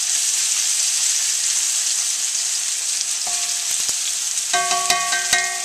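Pork sizzles steadily in a hot pan during a stir fry for instant ramen, with a loud continuous hiss and a few sharp metallic utensil clinks toward the end.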